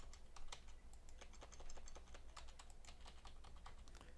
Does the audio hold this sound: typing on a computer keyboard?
yes